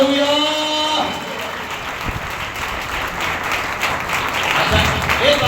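Applause from a congregation at a Sunday church service, a broad wash of clapping heard alongside talk and sustained tones from the hall, steady and fairly loud throughout.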